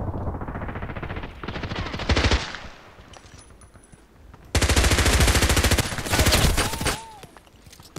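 Rapid automatic gunfire in the shooter game Contract Wars, loud bursts of repeated shots in two main stretches with brief pauses and a quieter lull between them.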